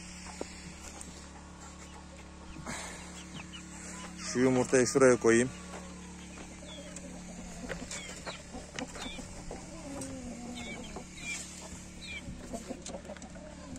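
Hens cluck intermittently around someone speaking, with a short loud burst of squawking clucks near the middle, close to the microphone.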